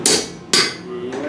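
A farrier's hammer strikes metal while shoeing a horse at a historic fort demonstration: two loud, ringing blows about half a second apart, close by.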